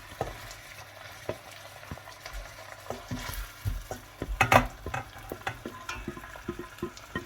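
Chopped onion sizzles and crackles as it goes into a hot pan for a turkey mince pie filling, with a burst of frying near the middle and soft stirring clicks throughout.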